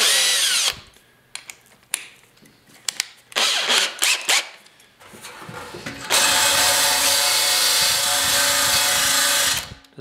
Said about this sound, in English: it's kind of like a little abrasive wheel, kind of a plastic wheel